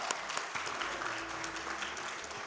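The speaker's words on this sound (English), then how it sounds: "That's worth a clap." Audience at a speedrun charity event claps briefly, a fairly quiet scatter of hand claps from a room crowd lasting a couple of seconds.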